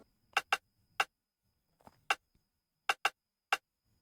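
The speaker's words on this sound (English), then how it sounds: "From there I have a rim shot, right? It's Afrobeat, so a rim shot is mostly used in Afrobeat." A rim shot sample for an Afrobeat beat in FL Studio sounds as sharp, dry, woody clicks in an uneven pattern, seven or so hits, crisp and close with silence between.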